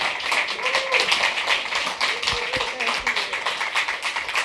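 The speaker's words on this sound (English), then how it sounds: "Once again, another round of applause to you, Ellen." Steady applause from an audience fills the room, a continuous wash of clapping with a few louder claps and some voices mixed in.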